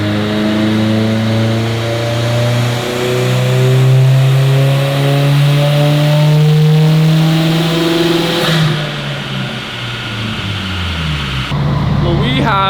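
A Subaru STi on a dyno revs steadily upward in a long, loud pull, its engine tone climbing for several seconds. The engine drops off abruptly and then rises again. The car has a boost leak.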